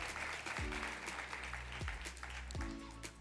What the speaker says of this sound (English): I think that deserves a big round of applause because it's our biggest show to date.